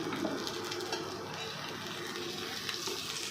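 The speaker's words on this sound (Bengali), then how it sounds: "দেখো কি সুন্দর পরোটাটা হচ্ছে।" A paratha sizzles in a hot pan, a dense, close, continuous hiss and crackle filling the whole short stretch without pause or voices.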